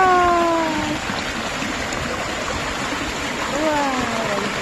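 Valley stream water flows in a steady, close rushing wash throughout, with voices briefly talking over it at the start and again near the end.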